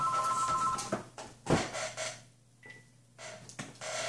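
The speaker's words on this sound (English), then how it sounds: "Why does the phone always ring when I'm in the middle of a video?" Indoor telephone ringing in short warbling bursts, starting loud then breaking off, with a later brief electronic tone and a few clicks and knocks.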